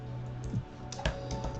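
A few quiet keystrokes tap on a computer keyboard, sparse clicks with short pauses over a low background hum.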